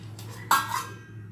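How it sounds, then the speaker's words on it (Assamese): A lid set down on a cooking pot of sour fish curry: a soft clink followed by a sharper metallic clatter as it settles, close by over a steady low hum. "ঢাকনি মাৰি মই এইটো উতলিব দিম।"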